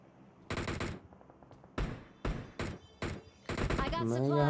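Gunfire in PUBG Mobile: several sharp, loud bursts of automatic fire separated by short pauses, followed by a rising, wavering tone at the end.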